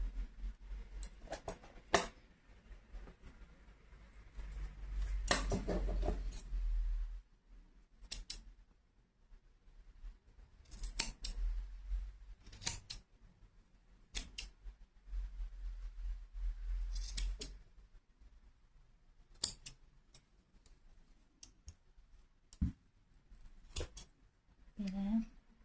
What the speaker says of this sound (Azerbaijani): Daha sonra deməli mən ipləri kəsirəm